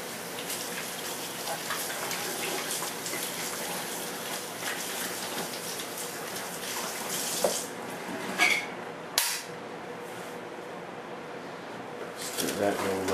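Sugar is stirred into squeezed blackberries for homemade wine, a steady wet swishing and sloshing that runs throughout at close range, getting busier with a few sharper knocks toward the end.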